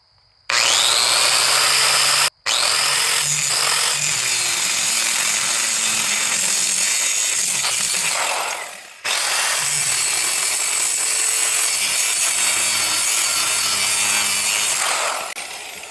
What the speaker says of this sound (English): I'm going to go ahead and cut the handle out of it